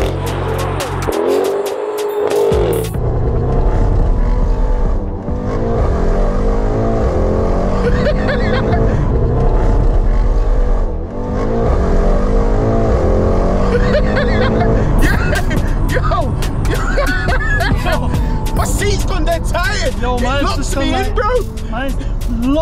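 A big 800 bhp rear-wheel-drive Mercedes-AMG GT63 S engine roars and revs loudly throughout, its deep rumble mixed with excited voices and laughter from occupants inside the car.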